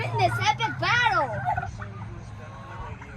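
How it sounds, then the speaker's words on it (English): Farm turkeys gobble in loud, warbling bursts, several rapid calls in the first second and a half, then fade into quieter barnyard background. "These are turkeys"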